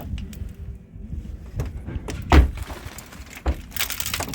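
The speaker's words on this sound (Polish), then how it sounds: "Ale drzwi pięknie się zamykają." An Opel car door, part of a complete scrapped car at a salvage yard, shuts with a solid thunk amid scattered knocks and handling noises, close and fairly loud.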